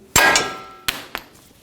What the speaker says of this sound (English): you can take a hammer and hit the bottom